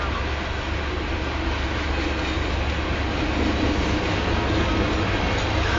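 An eastbound Union Pacific coal train of 125 cars and two engines rolls past at about 24 mph near Nevada, Iowa, a loud, steady rumble of wheels and rail clatter filling the whole stretch without voices.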